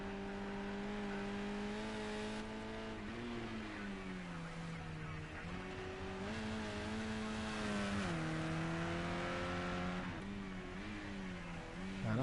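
Race cars run laps on the Azure GP track in a racing video game, engines droning and rising and falling in pitch through gear changes, steady and prominent throughout.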